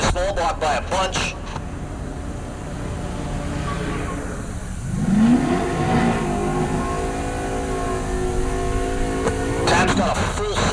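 A small-block naturally aspirated drag car launches and accelerates down the right lane at Heartland Park Topeka, its engine note climbing in pitch under steady announcer commentary over the public address.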